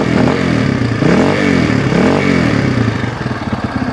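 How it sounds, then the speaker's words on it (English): 2003 Honda CRF230F dirt bike engine revving close by, several quick rising and falling throttle blips over a rough idle, with no talk. "I'll do a couple quick revs."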